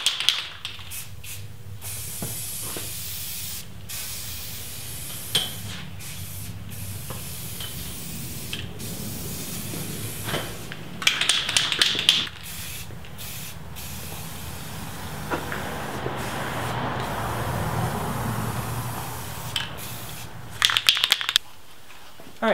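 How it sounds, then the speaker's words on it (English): Spray paint hisses out in light coats in a Jeep painting job, several sustained bursts with short pauses between them, steady and fairly close, with no talking. "We're going to stand back, just spray a really light first coat, and then a light second coat, and then a third coat."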